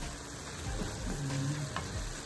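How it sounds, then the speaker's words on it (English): Walkerswood jerk seasoning sautéing in a pan, a soft steady sizzle with a few faint scrapes, close but quiet under a constant high whine. "We added a tablespoon in. We're gonna go ahead and saute that in."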